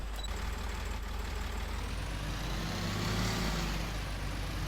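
A tractor engine starts and idles with a heavy, low, steady rumble, rising slightly in pitch midway, with no one speaking.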